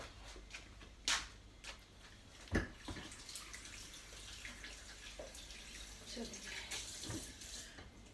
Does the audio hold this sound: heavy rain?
no